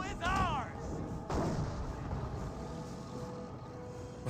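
An anti-tank gun fires in Company of Heroes, a heavy boom partway through a noisy stretch of battle, with engine rumble and other combat sounds under it.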